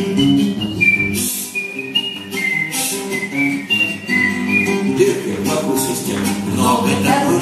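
A melodic tune is whistled clearly and loudly over a musical accompaniment, the pitch stepping through a series of sustained notes.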